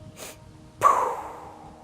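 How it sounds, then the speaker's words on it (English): Sharp nasal breath during Kundalini yoga breathing practice: a faint sniff, then a stronger forceful exhale that trails off, close and alone. "take 3 sniffs and a pow"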